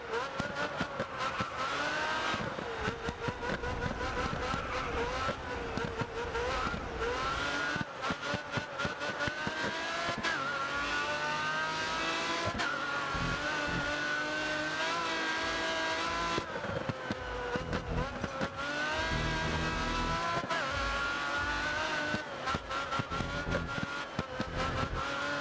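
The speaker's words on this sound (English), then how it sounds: "why does it sound like there are two cars running right now?" Race car engines from a racing video game roar continuously for the whole stretch, high-pitched revving that climbs and drops with gear changes and sounds like overlapping cars, loud and steady with no speech.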